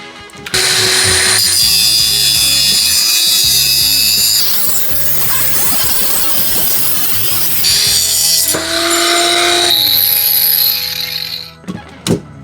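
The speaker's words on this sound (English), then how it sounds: "just cut off literally just one ring of this coil spring" A power tool cuts a ring off a car coil spring, giving a loud, harsh grinding whine that rises and shifts pitch across several cutting passes, with pauses and a clank near the end.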